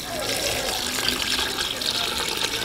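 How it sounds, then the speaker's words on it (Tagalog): Water from a pitcher pours steadily into a cooking pot of fish simmered with fish sauce and bagoong broth, a continuous close splashing rush lasting the whole moment without pause. "Lalagyan natin ng isang pitsil na tubig."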